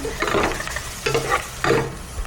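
Garlic sautéing in a pan, with a spoon stirring and scraping in three distinct bursts over a soft, steady sizzle, close by.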